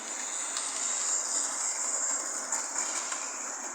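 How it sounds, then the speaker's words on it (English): A model railway Flying Scotsman locomotive runs on its track, making a steady thin whirring hiss with faint rhythmic clicks, close by and without talk. "here comes Flying Scotsman"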